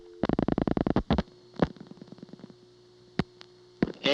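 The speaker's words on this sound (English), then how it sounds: "I'll dial 8, and then you'll hear the sender dial 8" Siemens motor switch exchange in Ocala–Silver Springs, 1982, its sender pulsing out digit 8: a fast run of about eight loud, evenly spaced clicks, then scattered fainter clicks and relay snaps over a low steady hum.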